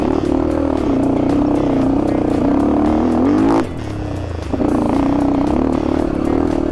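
An Asian Beast dirt bike rides off-road on a rough, stony dirt track, its engine droning loud and close with shifting pitch, dropping briefly midway before picking back up, along with rattling clatter.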